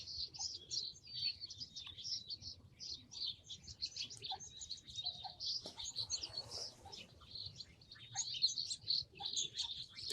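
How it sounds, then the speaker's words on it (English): Scaled quail calling near a backyard blind, a steady chorus of repeated high, rhythmic chirping calls that continues throughout, with a brief soft rustle or flutter partway through. "These are scale quail."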